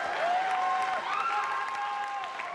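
Audience applause at the first televised debate for the 2017 Jakarta gubernatorial and vice-gubernatorial election, a steady, dense clapping from a sizable crowd with scattered cheers and whistles over it.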